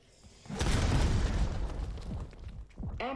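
A grenade explodes in a video game, a loud sudden boom that rolls out and decays over about two seconds, followed by smaller bursts and a brief synthetic tone at the end.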